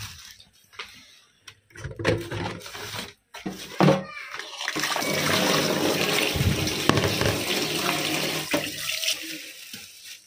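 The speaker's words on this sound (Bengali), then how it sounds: "চলো আগে চিকেনটা ধুয়ে নিই।" Chicken being washed under running tap water at a kitchen sink, a steady splashing flow that swells over the second half after a few short bursts, with brief child-like voices early on.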